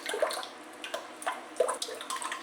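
Homemade chicken stock poured gently into a pan while cooking mole poblano chicken, heard as soft intermittent splashes and drips in short bursts, close and fairly quiet.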